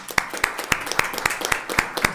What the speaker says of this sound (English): So round of applause for you, honestly.